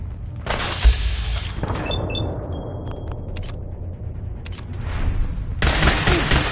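Bursts of rapid gunfire ring out in a PS4 shooting game, loud volleys separated by short pauses with a few single shots between, ending in a sustained final barrage.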